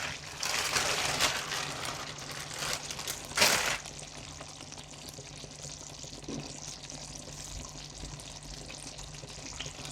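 A parsley and garlic mixture frying in a pan gives a steady mid-level crackle and hiss, with a louder burst of sizzling near the middle as it is stirred.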